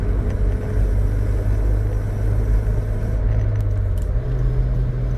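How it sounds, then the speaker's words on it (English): A 2013 Honda Civic Si engine while driving, a steady loud low rumble from inside the car, with the pitch stepping up late as the revs are matched. "That rev match,"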